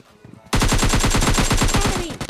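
Loud rapid automatic gunfire from PUBG Lite, a fast even burst of about twenty close shots after a brief quiet start, with no speech over it.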